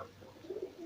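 A Gresik pigeon, a red-toned breed with reddish brows, gives soft low coos, a couple of short murmuring notes over quiet background.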